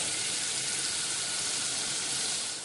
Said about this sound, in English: we're going to saute the onions in our butter